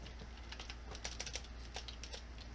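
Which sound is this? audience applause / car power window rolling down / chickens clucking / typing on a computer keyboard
typing on a computer keyboard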